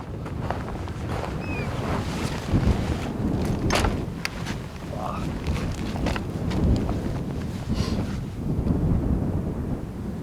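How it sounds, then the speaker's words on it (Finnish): Steady north wind from the Arctic Ocean roars across the microphone in the Vätsäri wilderness, Finland, rising and falling in gusts, with a low rumble and occasional faint knocks underneath. "Piilee tuuli kylläkin, se tulee suoraan pohjoisesta tuolta Jäämereltä."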